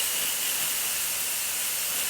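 A McCulloch 1375 steam cleaner hisses out a steady, continuous jet of steam, loud and close, with no pauses and no voices.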